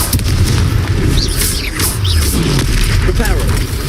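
A Confringo fire spell bursts during a Hogwarts Legacy battle, a loud booming blast that rolls into sustained rumbling and crackle.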